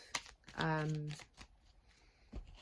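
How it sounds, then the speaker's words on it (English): A deck of cards shuffled in quick crisp bursts, close by, with a voice speaking briefly over the riffling. "shuffling too as well. Really easy to shuffle. Lovely little deck of cards."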